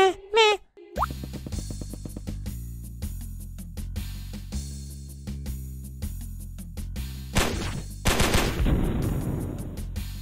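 Bursts of gunfire from a Squid Game video game crackle late in the clip over a looping, tonal game music track, loud and close.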